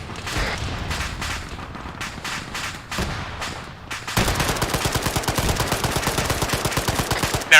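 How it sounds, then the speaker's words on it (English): Sustained machine gun fire in Arma 3, a light machine gunner's bursts of sharp cracks that start patchy and then become a dense, continuous rattle, fairly loud and without talk. "Never mind, it's a machine gunner."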